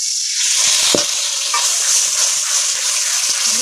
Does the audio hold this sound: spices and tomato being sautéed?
yes